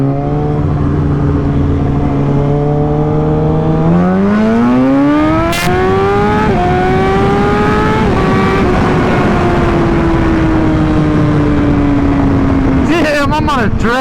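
A Yamaha R1 sport bike roars loud and close, its engine pitch climbing steadily as it accelerates through long gear pulls, then dipping and rising again with a sharp rev burst near the end.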